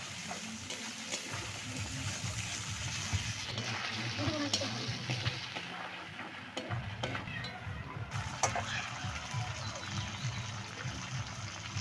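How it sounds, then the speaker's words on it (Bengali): Mustard, green chili and ginger paste fried and stirred in hot oil for a Bengali potol posto, a steady sizzle with scraping and clinking of the spoon running throughout, a voice talking faintly under it. "সর্ষে কাঁচা লঙ্কা আর আদা বাটা দু এক মিনিট নাড়াচাড়া করে নেবো"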